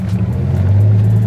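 Deep, steady rumble of a Dodge Viper GTS ACR engine heard from the cabin while cruising, a close low drone that thickens slightly toward the end.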